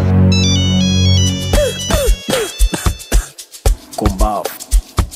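A mobile phone rings in a school setting, a bright, repeating electronic ringtone melody that plays clearly, then stops as people start talking up close.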